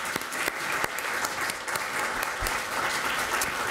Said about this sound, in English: big round of applause for Marian.